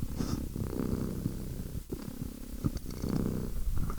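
A pet cat purrs right up against the microphone in a steady, rumbling rhythm of in-and-out breaths. The sound is close and continuous, and no one talks.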